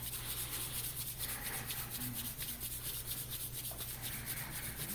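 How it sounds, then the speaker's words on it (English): Palms rubbed together quickly and steadily, a continuous dry friction hiss lasting throughout with a rhythmic texture, close up and alone with no talking. "rub your hands together very rapidly, more rapidly than you possibly can"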